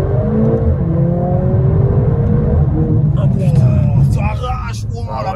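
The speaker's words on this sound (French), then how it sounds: "ça sent le launch control, hein." A Mercedes-AMG A45 S accelerates hard on a launch-control start, a loud, rising engine drone with gear-change shifts, heard from inside the car while someone talks excitedly over it.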